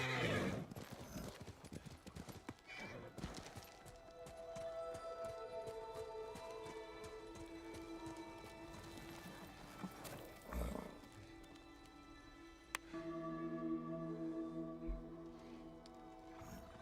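Horse galloping in the video game Ghost of Tsushima, a quick rhythmic clip-clop of hooves mixed with game sound and music, faint overall, with a brief whinny.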